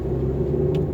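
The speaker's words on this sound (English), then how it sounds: "The engine is responsive on the throttle." A 2018 Volkswagen Golf Mk 7.5 1.4 TSI R-Line with a turbocharged engine, heard from inside while driving: a steady low engine and road rumble that holds constant for the whole moment, with no speech.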